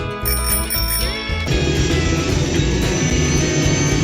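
A bicycle bell rings clearly for about the first second and a half, then gives way to a continuous loud vehicle or engine drone that fills the rest.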